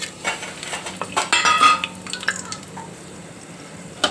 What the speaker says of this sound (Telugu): ఇంట్లోనే నూనె వేడైనాక ఈ హోల్ గరం మసాలాలు మొత్తము వేసుకోవాలి